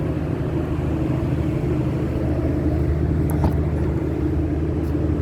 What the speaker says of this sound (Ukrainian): Машинка їде дуже гарно